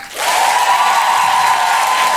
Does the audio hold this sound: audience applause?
yes